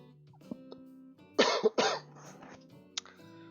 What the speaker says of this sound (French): Je m'excuse pour la toux.